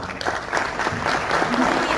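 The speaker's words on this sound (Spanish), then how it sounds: "Un aplauso, por favor" Brief applause from a live radio-program audience during a poetry discussion, moderately loud clapping rising over a couple of seconds with faint voices underneath.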